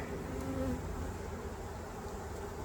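Honey bees buzzing around an open hive in a bee yard, a faint, steady swarm hum with individual bees droning past close by.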